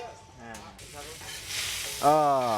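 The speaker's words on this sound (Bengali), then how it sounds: "বেরেস্তা ভাজি করতেছে মানে আমাদের ইলিশটা যেই তেলে ভাজি হয়েছে ওই তেল দিয়েই কিন্তু এগুলো হচ্ছে বেরেস্তা" Onions fry into beresta at a hilsa fish fry stall at Mawa Ghat, reusing the oil the fish was fried in, giving a soft steady sizzle beneath a voice talking throughout.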